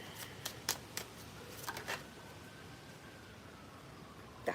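Tarot cards are shuffled close by, giving a few quick riffling bursts of papery flicks near the start, then quiet room tone and one last soft shuffle at the end.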